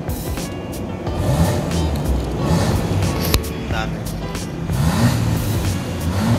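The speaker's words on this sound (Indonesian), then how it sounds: "tadi gue janji buat ngasih dengar suara knalpot Valvetronic dari mobil ini" A Mercedes-Benz E-Class Cabriolet V6 with its Valvetronic exhaust valve closed gets a few short, muffled throttle blips, a close engine rising and falling while someone talks over it.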